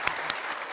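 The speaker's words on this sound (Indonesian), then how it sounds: "Tepuk tangan dong biar semangat." Brief applause from the hosts of an Indonesian comedy talk show: a dense, steady patter of hands clapping up close, short and continuous, with no voices over it.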